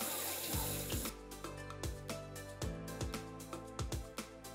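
A stripped GPU water block is rinsed under a running tap, with steady splashing water and a string of sharp knocks and clinks as the metal block bumps against the sink. No one speaks.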